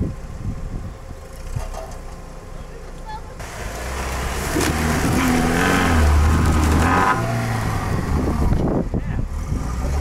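Lada Niva fitted with AVT self-locking differentials reverses off-road, its engine droning steadily and building in load partway through, with people talking nearby over the motor.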